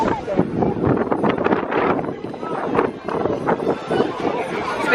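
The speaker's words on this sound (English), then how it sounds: "It's a bit windy, I nearly lost my ears." Strong wind buffets the microphone outdoors on a snowy Christmas visit to Disneyland Paris, a continuous rough rumble and roar that persists throughout.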